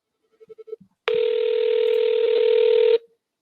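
A phone call placed by scanning a QR code rings through to an AI agent: a quick run of short dialing tones, then one long, steady, loud ringback tone that stops abruptly, with no voices.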